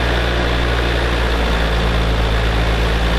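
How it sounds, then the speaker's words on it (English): A boat engine pulling hard under load, lugging slightly at low revs: a steady, loud, continuous low drone with a constant hum and no talk over it. "You hear it lug the engine a little bit"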